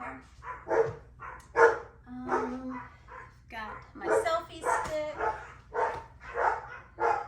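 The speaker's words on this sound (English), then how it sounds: "you'll probably hear my dogs barking." Dogs bark and yip repeatedly in quick bursts nearby, with some whimpering, while a person talks over them.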